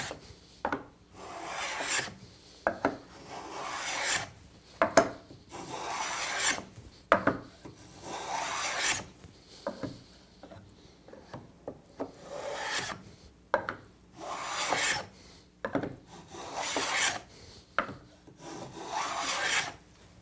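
A Lie-Nielsen tongue and groove hand plane cuts along a wooden board edge, giving a series of repeated rasping strokes at a steady rhythm, close and fairly loud, with brief pauses between passes and no talking.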